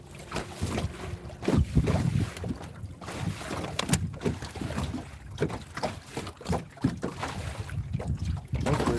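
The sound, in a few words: wind blowing over a fishing boat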